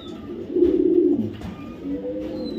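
Racing pigeons of a BRPEL club, including a male, coo close by with a low throaty rolling call swelling in the middle, followed by softer murmuring coos.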